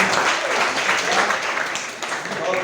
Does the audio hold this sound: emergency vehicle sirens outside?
no